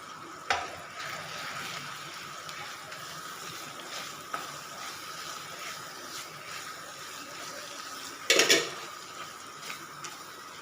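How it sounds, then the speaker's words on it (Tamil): Chicken masala with ground coconut paste and coriander powder sizzles and simmers steadily in oil in a pan, a continuous close hiss broken by a few sharp utensil clinks. "இந்த மசாலாலாம் நல்லா எண்ணெய் பிரிஞ்சு கொதித்து வரட்டுங்க"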